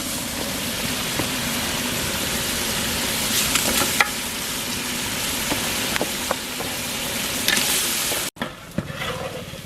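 Mutton sizzles and crackles steadily in a hot pot with ginger and garlic, with occasional scrapes and knocks of stirring, close and continuous until a sudden break near the end.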